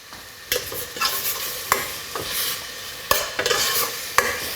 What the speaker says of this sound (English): Get your veggies ready, because we'll be frying these off in a minute